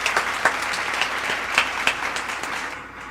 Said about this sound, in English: Let me get a round of applause to her